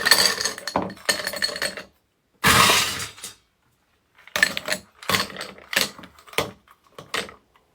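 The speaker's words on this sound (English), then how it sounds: "Put some ice in there." Ice cubes dropped into a tall highball glass for a cocktail, several clattering clinks and rattles in separate bursts, close and sharp with pauses between.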